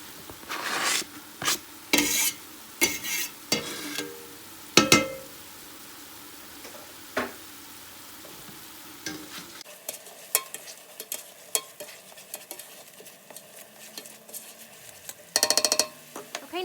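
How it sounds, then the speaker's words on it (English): Onions and garlic sautéing in a pan for homemade marinara from fresh garden tomatoes: a soft, steady sizzle broken by the scrape and clack of a spoon stirring, close and fairly quiet, with no talking. "I'm gonna go ahead and add in my garlic."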